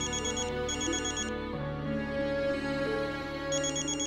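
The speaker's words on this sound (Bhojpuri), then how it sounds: "ये तो हमार फोन बाजत बा।" A mobile phone rings with a melodic electronic ringtone that loops steadily and fairly quietly for several seconds, with no talking over it.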